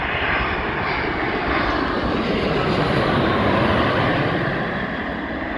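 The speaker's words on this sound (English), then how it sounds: "if I turn the camera around you could see this is going to land on the same runway." A fixed-wing airplane lands on a runway near Birmingham, its engines a loud, steady broadband roar close by that fills the whole stretch without talk.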